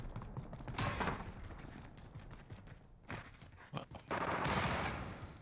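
Bursts of rapid gunfire from Warzone gameplay strike the player, sharp repeated cracks in several clusters with thuds and movement noise between them, fairly loud and without speech.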